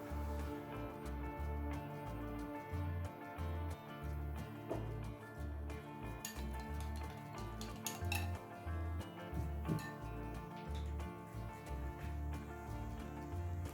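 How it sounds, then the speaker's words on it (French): Fluid acrylic paints, iridescent blue and gold among them, are stirred in cups with a stick for acrylic pouring, giving repeated light clinks and scrapes against the cup over a low steady hum. "Je mélange un tout petit peu les peintures fluides"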